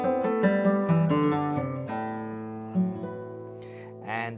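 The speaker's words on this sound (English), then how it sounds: "And then to finish off, I do a cross string scale," Nylon-string classical guitar picking a cross-string scale run that closes an arrangement, a rapid cascade of overlapping ringing notes, close and moderately soft, settling into a final sustained note with no voices.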